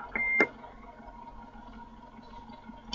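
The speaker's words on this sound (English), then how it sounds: "And that beep as well." A single short electronic beep sounds near the start, clear but not loud, followed by quiet room noise.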